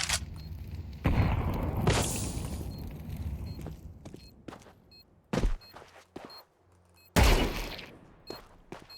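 A grenade detonates during a Counter-Strike-style FACEIT match, its loud booming blast followed by debris and gunfire-like bursts, with a second sharp explosion near the end amid scattered footsteps.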